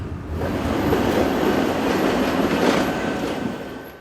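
A scenic railroad train rolls past in Cuyahoga Valley National Park, Ohio, with a loud, continuous roar of wheels on rails, swelling and holding steady for several seconds.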